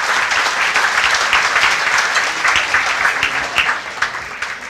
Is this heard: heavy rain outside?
no